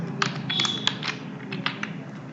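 Keys clatter on a computer keyboard as Java code is typed, a close run of quick irregular taps and clicks over a low room hum, with no talking.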